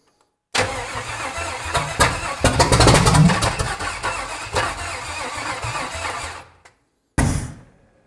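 A 1955 Buick Special engine, abandoned since 1968, cranks and catches, then runs with a rough, uneven idle and a few revs before shutting off; it briefly restarts at the end.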